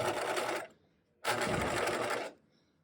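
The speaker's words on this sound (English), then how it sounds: "I'm being careful to sew slowly and hold everything very flat as I go." Sewing machine stitching box pleats slowly, two distinct runs of rapid motor-driven stitching separated by a brief pause, close and clear.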